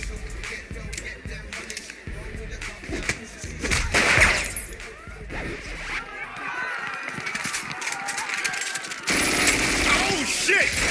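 Rapid sniper and rifle gunfire in the Saints Row the Third video game, sharp bursts and cracks scattered through a noisy scene with shouting voices mixed in.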